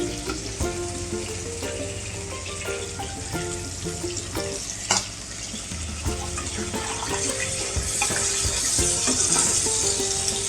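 Hilsa fish pieces and green chillies frying together in oil in a pan over high gas heat, a continuous loud sizzle and crackle with occasional spatters and a clatter, growing slightly more intense toward the end, no talking.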